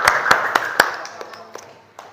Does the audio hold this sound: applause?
yes